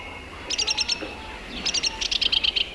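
Swallows chirp in quick rhythmic bursts of high, bright notes, several short trills repeated close by against a quiet background.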